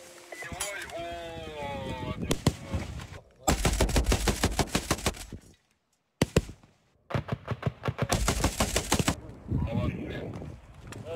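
Rapid bursts of gunfire crackle in long volleys during a military exercise against an advancing mechanized platoon, broken by short pauses, with shouted voices in between and at the start.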